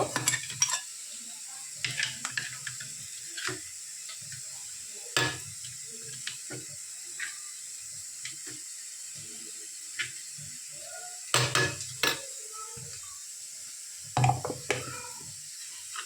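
Spice paste is stirred into turmeric water in a pot, with scattered spoon scrapes and clinks against the metal over a faint hiss, quiet and intermittent, with a few louder knocks.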